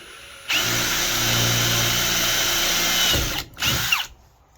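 A power drill bores holes with sharp Milwaukee bits during a broken gas-charged strut repair, giving a loud, steady whine for about three seconds that drops out briefly and then returns in a short final burst.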